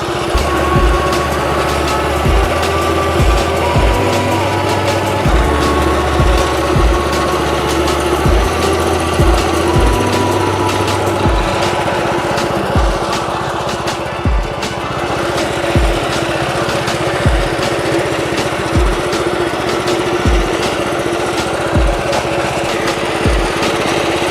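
A lawn mower runs steadily while cutting a putting green down to a 7mm height, a loud continuous engine drone with regular sharp clicks and thumps pulsing through it.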